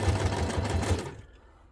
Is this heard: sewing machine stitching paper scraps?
yes